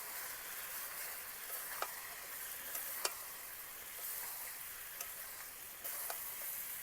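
Spices, cumin and coriander powder, sizzling in a hot pan while being stir-fried for mango chicken, a steady close frying hiss with a few sharp clicks of the spoon against the pan.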